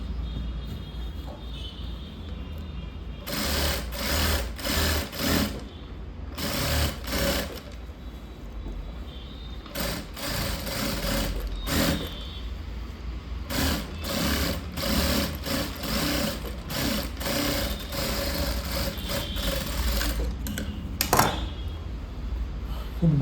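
A sewing machine stitches a lining blouse sleeve in a tailoring class, running in short repeated bursts of fast whirring needle strokes separated by quiet pauses, close and clear with faint background hum.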